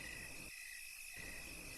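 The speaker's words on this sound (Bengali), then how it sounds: "ঝিঝি পোকাগুলো ডাকছে।" Crickets chirp on a quiet night in a Bengali horror cartoon, a faint, steady high-pitched trill that carries on throughout with no other sounds.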